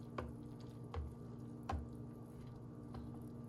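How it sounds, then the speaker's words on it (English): Hot cocoa mix is stirred into liquid in a crock pot. Soft, faint wet scrapes and squishes recur about every second, with a low hum underneath. "I'm gonna slowly incorporate this in. Just by stirring it."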